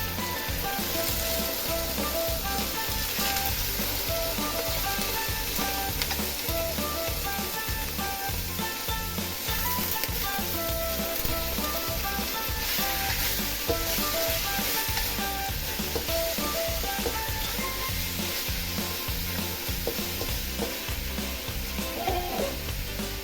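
Chicken liver for adobo fries in a pan with a steady, loud, crackling sizzle that runs without a break, with occasional stirring and no voices.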